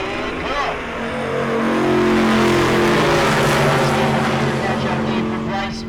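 A 2020 dragster and a 1972 Vega launch side by side at a drag race, a loud, close engine roar that swells and holds as they pull away while an announcer talks over it.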